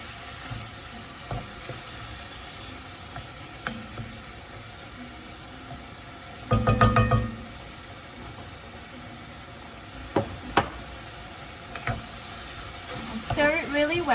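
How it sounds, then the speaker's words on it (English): Chopped tomatoes sizzle steadily in a pan over a medium-high flame for shakshuka, with scrapes and clatter from stirring and a louder burst midway, heard up close. "We're going to cook the tomatoes down. Cook it on medium-high flame."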